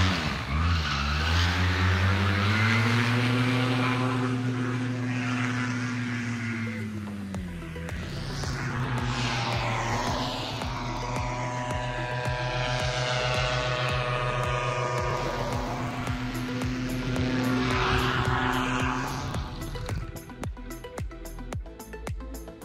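The fleXer 140cm paramotor engine with a SKY 150 runs continuously in flight, a loud, close, buzzing drone whose pitch rises and falls as the throttle changes, with wind rush throughout and no talk.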